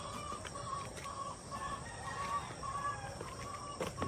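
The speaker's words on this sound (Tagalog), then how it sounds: "Ating mga alagang manok." Several caged chickens cluck softly at a distance, repeated short calls over a steady background hiss.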